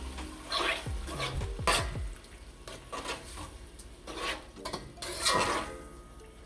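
Spoon scraping and stirring through red beans with coconut milk in a cooking pot, irregular clinks and scrapes against the metal over a soft sizzle, close and moderately quiet with no talking.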